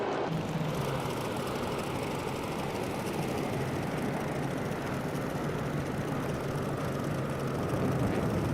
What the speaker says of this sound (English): Nice low level flyby here.